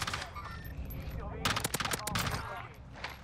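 Bursts of rapid automatic gunfire in the shooter game Warzone, several close sharp volleys packed into the middle of the clip, with game sounds and faint voices around them.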